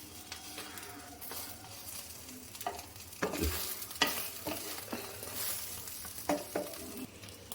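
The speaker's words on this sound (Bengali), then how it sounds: "সকাল সকালে যে ডিম ভাজা শুরু হয়ে গেল।" Eggs fry in a pan with a soft, steady sizzle, broken by scraping stirs and a few sharp utensil knocks against the pan.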